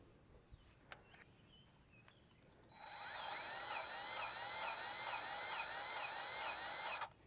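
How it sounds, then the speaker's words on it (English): A Dewalt 20 volt cordless grease gun greasing the rocker arms of a sickle bar mower sets off a steady, whining motor hum that runs for about four seconds after a few faint clicks, then cuts off abruptly. "We're going to be using our Dewalt 20 volt max grease gun."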